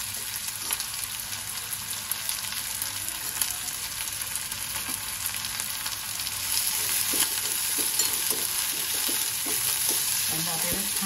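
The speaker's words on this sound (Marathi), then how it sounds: "आता आपण यावर कांदा घालूया" Two finely chopped onions fry and sizzle in a pan over browned garlic, stirred steadily with scraping strokes for about eleven seconds. The sizzle runs on without a break and grows a little louder toward the end, with no talking.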